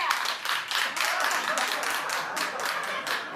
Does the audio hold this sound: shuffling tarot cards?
no